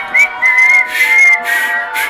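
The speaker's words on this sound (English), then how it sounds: "We'll just whistle." A person whistles a short melodic tune, close and clear, in a few phrased bursts with brief pauses, alone without talking.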